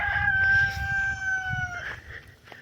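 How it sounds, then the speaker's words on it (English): Wild turkeys calling in a backyard: a drawn-out, wavering fowl cry rings out clearly for nearly two seconds over a low, rumbling outdoor background, then fades into softer ambient noise. "The wild turkeys are in our backyard."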